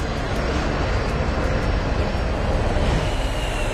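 Airliner engines spooling down to idle during the landing flare, a steady broadband roar with low rumble that holds loud and even throughout, with no talking.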